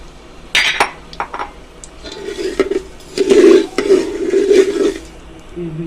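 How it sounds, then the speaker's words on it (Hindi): Sugar, about 400 grams, going into a pot for a sweet rice dish, with scattered clinks of a spoon against the metal pot and scraping stirring that grows louder midway, then settles. "अब हम इसमें चीनी डालेंगे।"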